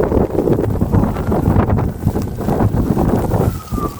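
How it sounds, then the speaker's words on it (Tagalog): Strong wind gusts during a snowstorm roar steadily and loudly across the microphone, a dense rushing buffet that barely lets up, with no talk. "Habang nag-snow, humahangin ng malakas."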